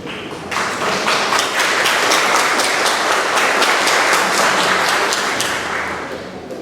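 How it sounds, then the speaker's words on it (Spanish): An audience at an academic conference applauds, with many hands clapping in a dense, steady burst that rises quickly, holds for several seconds, and tapers off at the end. "Aplausos, por favor."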